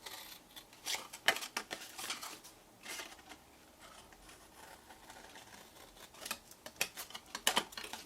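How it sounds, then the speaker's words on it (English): Scissors snip out the corners of cardstock for a fold-out votive candle holder, a run of close, crisp clicking cuts in uneven bursts with no talking. "we're going to cut out all of these"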